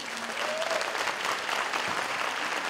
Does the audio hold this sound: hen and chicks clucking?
no